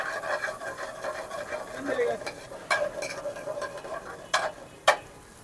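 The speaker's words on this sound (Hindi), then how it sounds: "गार्लिक को फ्राई करने के बाद हम इसमें डालेंगे चिकन।" Chicken pieces sizzle and fry with garlic in a hot pan at a Karachi food stall, a steady crackle with sharp scrapes and clanks of a stirring utensil, under background voices.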